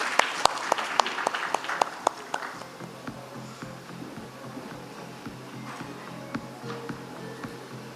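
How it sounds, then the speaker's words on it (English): Applause for a speaker at an international packaging industry summit, a burst of claps near and loud at first, then thinning into scattered claps over a low room hum. "may I have a big round of applause for Mr."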